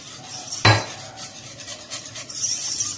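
Spoon stirring an instant coffee mixture in a cup, with one sharp clink against the side followed by soft scraping and swirling strokes, close and fairly quiet.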